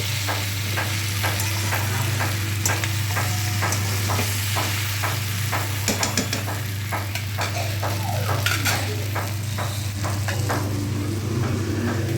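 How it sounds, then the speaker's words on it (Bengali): Fish-head chochchori frying in a pan while being stirred, a loud steady sizzle with repeated scraping and clacking strokes of the spoon against the pan, and a low constant hum running underneath. "রান্না আজকে রান্না হচ্ছে মাছের মাথা দিয়ে চচ্চড়ি"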